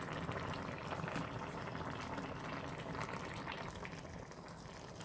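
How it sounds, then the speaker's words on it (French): Paella simmering in its pan gives a dense, continuous bubbling and sizzling hiss that stays even and close throughout, with no voices. "je vais laisser cuire pour que les saveurs s'imprègnent"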